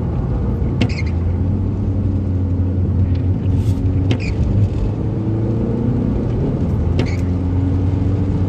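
A diesel car engine drones steadily at low pitch while driving, loud and close, with a few sharp clicks and knocks over the rumble.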